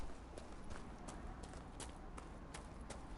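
Horse hooves clip-clop in the video game Dragon Age Inquisition, a faint, steady run of light strikes over a quiet background hiss.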